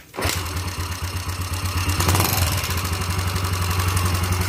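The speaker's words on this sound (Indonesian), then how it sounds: "sekarang kita nyalain dulu motornya supaya teman-teman atau abang-abang dapat mendengar suara atau kondisi motornya" A motorcycle engine with a rattling, smoking fault cranks and catches, then runs loud and steady at a lumpy idle with a fast rhythmic pulse, close up and alone.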